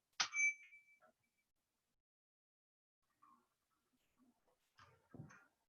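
A bell is struck once at the start of a Rotary club's virtual meeting, giving a bright ring that fades quickly. Faint scattered bumps and noises follow over near silence.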